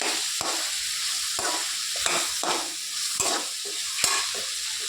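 Tomatoes with coarse salt sautéing in a pan for vengaya chutney, a steady sizzle broken by regular sharp scrapes and knocks of the spoon stirring, close and clear with no talk.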